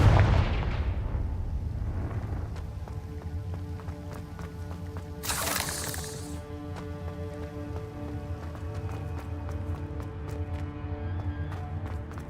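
Confringo fire spell blasts in Hogwarts Legacy: a loud boom right at the start, then a second sharp explosive burst midway, over steady in-game music.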